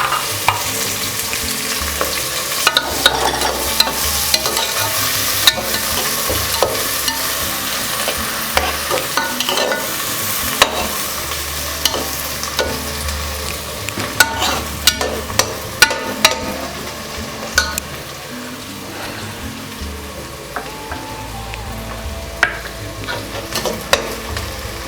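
Two chopped onions and green chillies fry in a pan for a cabbage dish, a loud continuous sizzle broken by frequent sharp scraping and clattering stirs, with no talking.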